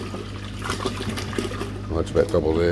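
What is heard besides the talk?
pouring liquid into a beaker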